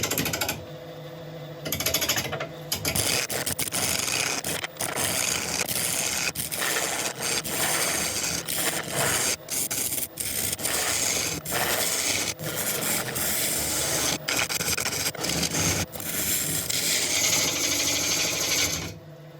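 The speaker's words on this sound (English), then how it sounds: "So I'm going to carry on with a ball gouge." A ball gouge cuts into very heavy, dense wood spinning on a lathe, making a loud, continuous rough scraping and rasping roar. Brief dips in level break it up, with no talking.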